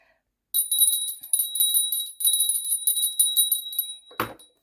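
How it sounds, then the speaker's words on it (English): A small handheld bell rings indoors in repeated bright shaking bursts of high tinkling tones for several seconds, close and clear against silence, ending with a soft thunk as it is set down. "I'm going to ring a bell here"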